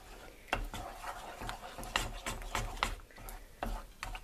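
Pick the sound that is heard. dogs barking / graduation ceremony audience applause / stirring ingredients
stirring ingredients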